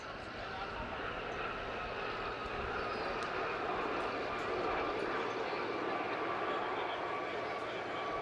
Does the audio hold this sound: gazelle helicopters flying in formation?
yes